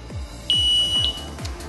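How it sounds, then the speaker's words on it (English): KOVIX motorbike disc lock alarm emits a single long, steady high-pitched beep at close range as it arms, lasting about half a second over faint low rumbling background. "After 5 seconds, you'll hear a long beep, which means that the alarm is going into activation."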